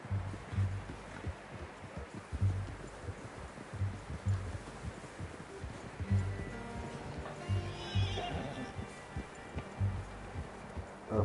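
A horse in the video game Red Dead Redemption 2 whinnies over steady hoofbeats and rustling ground noise, its clip-clop keeping a regular rhythm throughout at a modest level.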